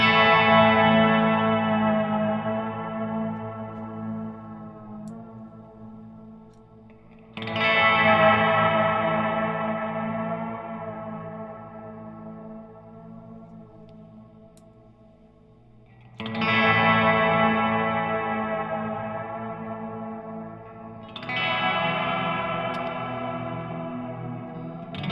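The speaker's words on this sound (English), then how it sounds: "you can change up the type of wave with the reverb sound" Electric guitar run through a Walrus Audio Slo reverb pedal with an altered modulation waveform, four sustained strummed chords each swelling and decaying slowly into a long, washy, shimmering tail, loud and alone.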